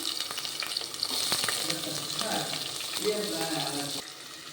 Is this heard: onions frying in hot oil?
yes